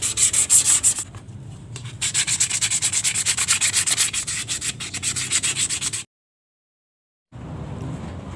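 Close, steady hand-sanding of a carbon bird cage with 320-grit paper before painting, fast scratchy back-and-forth strokes that pause briefly, then go silent before faint rubbing resumes.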